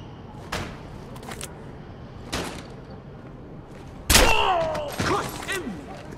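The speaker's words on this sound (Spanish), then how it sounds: "Los disparos vinieron de ahí." Gunfire in the stealth shooter Splinter Cell Blacklist: several sharp, loud broadband shots spaced a couple of seconds apart, then a heavier burst with ringing, descending tails near the end.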